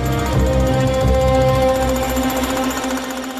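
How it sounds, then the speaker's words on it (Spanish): A pneumatic jackhammer smashes up an entire kitchen during a police search, giving a loud, continuous, droning hammering with a harsh metallic edge throughout. "los carabineros destrozan conscientemente y a golpe de martillo neumático una cocina entera en busca de escondites"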